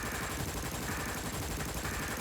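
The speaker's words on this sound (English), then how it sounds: "Cannon's cry paled out amidst the sound of gunfire?" Sustained gunfire from the video game Danganronpa: Lapse rattles on as a dense, continuous barrage, loud and unbroken, with no voices.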